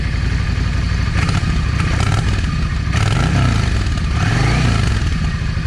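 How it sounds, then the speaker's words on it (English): Yamaha 650 V Star motorcycle engine idling loud and close with its choke partly pulled, a rough uneven chug punctuated by sharp popping backfires from the front exhaust. "That backfiring is on that number one exhaust, or the front exhaust."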